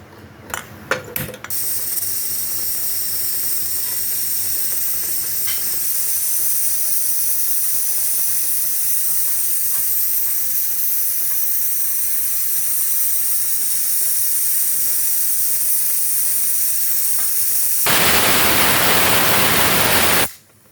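A pressure cooker on a gas stove, steaming prawns wrapped in taro leaves, gives a long loud steady hiss after a few clicks, then near the end bursts into a louder, brighter whistling rush.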